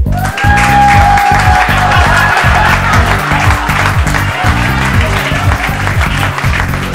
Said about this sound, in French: Messieurs, dames, vos applaudissements pour Monsieur Sarkozy.